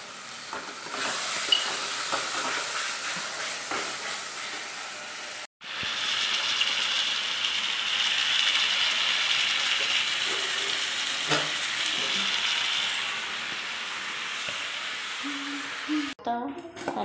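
Heavy rain in Puri gives a dense, steady hiss that drops out for a moment partway through, then returns just as strong, with voices faintly present at times.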